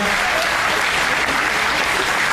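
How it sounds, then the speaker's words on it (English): A crowd at a Lafayette County C-1 graduation gives the Ham Project kids a loud, dense round of applause, steady clapping throughout with no speech. "Let's give the Ham Project kids a round of applause."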